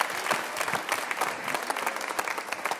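An audience at a church service claps and cheers, dense continuous applause with scattered shouts, fairly close and steady for a few seconds.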